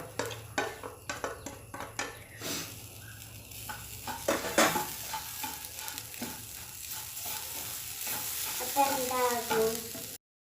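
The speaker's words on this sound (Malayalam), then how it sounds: "ഈ തേങ്ങ കൂടി ഇതിലേക്ക് ചേർത്ത് കൊടുത്ത് കണ്ട് ഒന്ന് വറുത്തെടുക്കുക" Grated coconut frying with broken wheat in a pan for an evening snack, with a soft sizzle under repeated scraping and stirring strokes and occasional clinks of a utensil against the pan.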